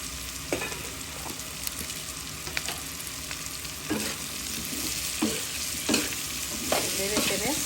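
Pumpkin pieces stirred and fried in a pan while cooking mustard hilsa, a steady sizzle broken by repeated scraping strokes of the spoon at irregular intervals, close and clear with no talking.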